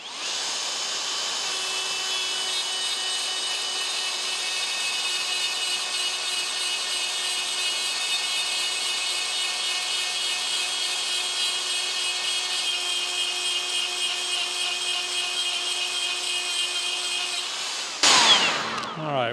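A rotary burr grinds steadily into a red brass steam whistle, a continuous high whine that holds for nearly twenty seconds before ending in a short clatter.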